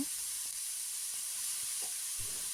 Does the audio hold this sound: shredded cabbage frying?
yes